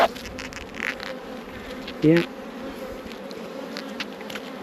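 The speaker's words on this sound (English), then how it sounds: "these are Buckfast bees, so they're normally pretty chill" Buckfast honeybees drone steadily at an open hive, a dense close hum with a brief louder buzz as one passes near the microphone, while a person speaks briefly.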